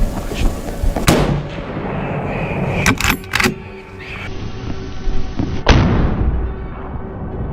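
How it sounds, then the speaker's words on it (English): A hunting rifle fires at wild boar during a rush hunt outdoors: one loud, sharp crack stands out near the end among a few other brief impulsive bangs over a steady outdoor background. "the shot rang out"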